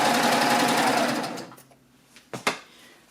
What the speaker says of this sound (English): I'm just going to release this and then stitch off.